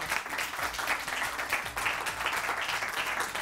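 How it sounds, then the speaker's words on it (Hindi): Studio audience applause on a Pakistani morning television show, a steady wash of clapping with rhythmic pulses running throughout at moderate loudness. "नानी और नवासी के लिए तालियां।"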